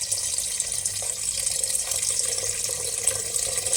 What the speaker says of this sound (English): Then you add in some normal water, plain water.